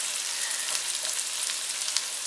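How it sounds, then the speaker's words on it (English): A steady, dense sizzle of onions frying in hot bacon grease, crackling continuously up close with small pops and no voices. "I just left all the bacon grease in there, and that's what I'm frying in."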